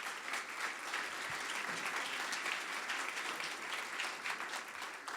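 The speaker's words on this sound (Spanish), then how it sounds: "para quien pido un fuerte aplauso" An audience at a book presentation at the Monterrey international book fair applauds, giving a steady, dense wash of clapping that holds for about five seconds.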